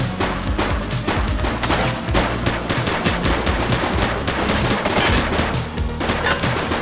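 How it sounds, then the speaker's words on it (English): Sustained gunfire from automatic weapons in a police shootout, rapid repeated shots cracking loudly and continuously over a rumbling background. "Shots fired!"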